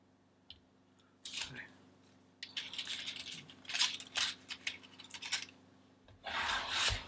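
A blade that is not very sharp cuts and drags through cheap vinyl wrap on a MacBook. Soft scratchy rasps and scrapes come in irregular bursts, quiet and close.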